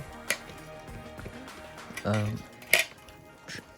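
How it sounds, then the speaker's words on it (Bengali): Cutlery and plates clink sharply several times during a meal of sticky rice, vegetables, mashed potato and dal on a hill trek from Boga Lake to Keokradong, with a few louder scrapes and knocks. "আমরা এখন খাচ্ছি অ্যান্ড ওদের ভাতটা একটু স্টিকি"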